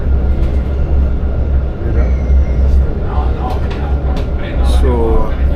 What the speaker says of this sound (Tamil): அப்படியே ட்ரெயின் ட்ராம் திரும்புது ரோட்டில் இருந்து